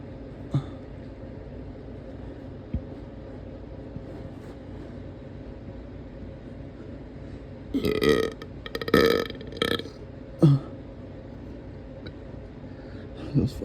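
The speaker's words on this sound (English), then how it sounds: "it's time for the burps" Several loud burps from a person, spaced across the second half of the stretch over a steady low background hum, with a couple of short bursts in between and no talking.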